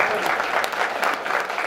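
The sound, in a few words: audience standing and applauding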